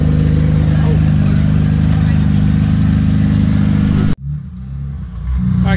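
A 1400hp Alpha 12 Nissan GT-R engine revving hard with a loud, sustained roar that cuts off abruptly near the end before a lower idle rumble resumes, with people talking over it.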